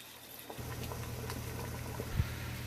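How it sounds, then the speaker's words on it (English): Water with noodles in it bubbles at a low, steady simmer in a cooking pot, with a soft continuous rumble and the occasional small pop. "Boil the noodles for 10 minutes."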